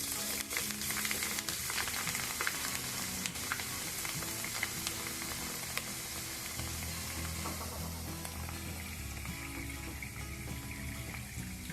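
Leftover-rice puffs fry in hot oil with a steady, dense crackling sizzle throughout, dotted with quick ticking pops and occasional stirring scrapes, close and fairly quiet.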